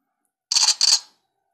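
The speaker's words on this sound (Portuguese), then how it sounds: "esse barulhinho aqui é do, é do antivírus" A Redmi Note 4 phone's antivirus notification plays as two quick, crisp bursts in succession, close and fairly loud, with silence before and after.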